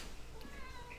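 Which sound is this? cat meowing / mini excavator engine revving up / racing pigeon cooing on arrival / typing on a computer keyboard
cat meowing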